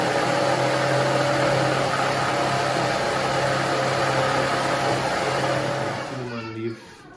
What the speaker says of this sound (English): I'm going to go and mix in the blender.